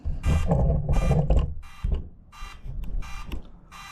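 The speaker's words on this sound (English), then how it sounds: "you can find my drone by hitting this button here, and it'll start beeping" A DJI Mini 2 drone's locator beeping, rapid electronic beeping in short repeated bursts, loud and close, with a few separate clicks between the bursts.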